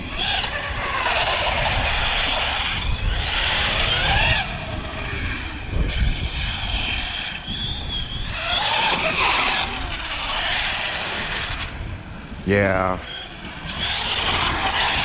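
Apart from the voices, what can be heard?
Arrma Big Rock 6S RC car street drifting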